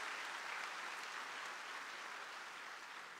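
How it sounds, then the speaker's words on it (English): Sustained applause from a large audience at a university graduation convocation, a dense, even wash of clapping that holds steady throughout with no voices over it. "A big round of applause, appreciation, my dear Christites."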